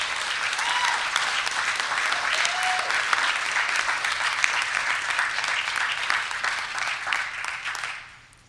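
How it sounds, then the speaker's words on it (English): A room of attendees at a regional healthcare community-of-practice meeting applauds themselves in a dense, sustained round of clapping. It holds steady and loud, with faint voices mixed in, then fades out at the end. "Can you please give yourself a round of applause?"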